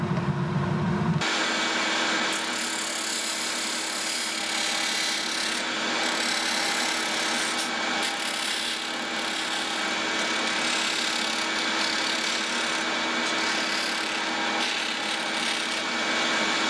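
A Black & Decker VersaPack Wizard rotary tool works a piece of wood in a shop, giving a steady, loud, unbroken grinding rasp that runs throughout after a brief quieter start.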